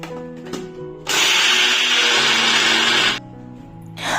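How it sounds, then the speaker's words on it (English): Electric kitchen grinder crushing broken Marie biscuits into fine powder, running as a loud continuous whir for about two seconds between quieter handling sounds, with no voices. "to grind them in the grinder."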